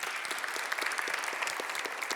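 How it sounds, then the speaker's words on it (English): Applause from a presentation audience rings out as a dense, steady patter of clapping hands, moderately loud and unbroken, with no talk over it. "applause for them."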